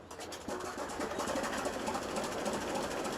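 A classic Russian farm machine's engine in Farming Simulator 15 chugs at a fast, even, mechanical beat, a steady clattering run with no voices over it.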